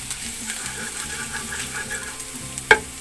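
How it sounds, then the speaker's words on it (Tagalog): Garlic sautéing in a pan for chicken caldereta, a steady close sizzle and frying crackle with light stirring, ending in a single sharp clink of a utensil against the pan. "Gisa tayo ng bawang."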